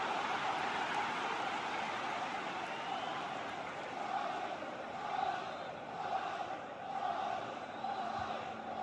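A football crowd at an Arsenal vs Chelsea match roars steadily, a dense, broad wash of massed voices and chanting that swells and dips slightly with no clear break.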